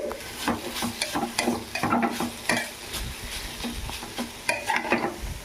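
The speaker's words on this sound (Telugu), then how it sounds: "మధ్య మధ్యలో తిప్పుకుంటూ ఉండాలండి లేకపోతే అడుగుంటుంది" A carrot ghee fry is stirred in a pan, close rhythmic scraping strokes of a spatula over a steady frying sizzle, loud and without speech.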